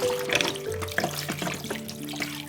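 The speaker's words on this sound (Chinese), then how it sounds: "倒入凉水，" Cold water is poured over pork ribs in a pot, a steady close splashing and gurgling stream that runs throughout with no talking.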